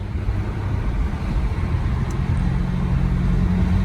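A car's aftermarket exhaust rumbles steadily as it drives through a tunnel, with a loud, continuous low drone that holds throughout without pauses.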